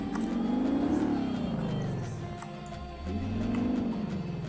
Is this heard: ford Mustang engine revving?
yes